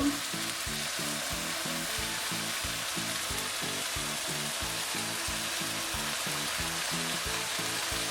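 Ingredients for a Caesar salad fry in a pan, sizzling steadily and close by while rapid, rhythmic stirring or tossing strokes repeat throughout, with no voices.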